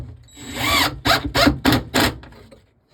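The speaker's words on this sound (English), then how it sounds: "nut driver has a magnet in it, so it's nice." A power tool driving 3/4-inch screws into the plastic of an arcade cabinet, heard as several short close whirring bursts in quick succession that stop abruptly and leave near silence.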